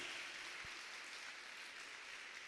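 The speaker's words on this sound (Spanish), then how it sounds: "Denle un aplauso a Dios por eso." A church congregation applauds during a Spanish-language sermon, a steady, broad wash of distant clapping that continues without pause and without talk.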